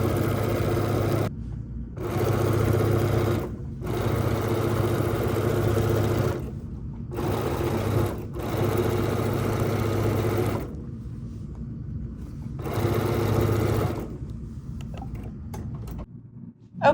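A sewing machine stitches quilt blocks in steady whirring runs of one to three seconds, separated by short pauses, loud and close with a mechanical hum.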